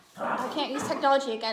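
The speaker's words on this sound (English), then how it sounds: "Apologies for my dogs." Small dogs yip and whine indoors during a livestreamed sing-along, brief excited bursts mixed in with someone talking over them.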